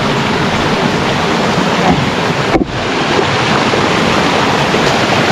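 Rushing stream water roars loudly and continuously as a dense, unbroken wash, with wind buffeting the microphone and one brief dip in the middle.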